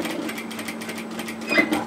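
A sewing machine stitching the seam of an apron dress, a steady close mechanical hum with fast rhythmic needle pulses throughout, no voices.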